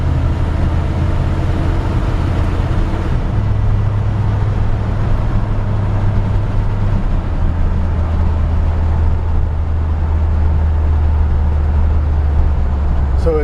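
A 1980 Chevrolet Silverado pickup driving, its engine a steady low rumble with a pitch change as the transmission shifts, heard continuously from inside the cab.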